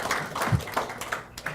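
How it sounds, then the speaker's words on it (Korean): Scattered, uneven clapping from a lecture audience on augmented and virtual reality technology trends. The claps come in loose bursts at moderate loudness, mixed with talk. "박수 좀 쳐주시죠."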